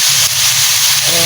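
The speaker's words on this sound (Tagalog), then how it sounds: "Lagyan po natin ng konting tubig." Water poured into a hot pan while cooking a fish and vegetable stew, a loud broadband steaming hiss filling the whole short stretch, close and continuous.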